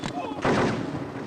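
A single loud gunshot in a Hindi-dubbed action film, a sharp blast with a rumbling, reverberant tail; a faint voice is heard just before it.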